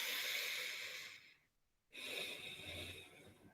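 A person draws a deep, full breath, a long airy inhale that fades into a brief pause before a second breath begins, heard close and alone.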